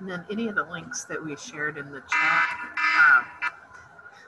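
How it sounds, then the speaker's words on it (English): A timer alarm sounds a five-minute warning during an online presentation, two loud bursts of bright repeating beeps cutting in after a stretch of talk, with a brief echo of it shortly after. "that's the alarm warning me, we're at 5 minutes."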